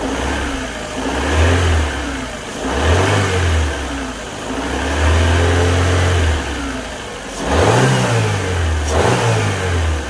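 A used car engine running with no oil in it revs up repeatedly in long, rising and falling swells from a steady idle, close and loud, with no talk over it.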